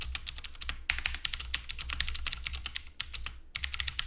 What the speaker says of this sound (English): The clicky sound and the feel of this keyboard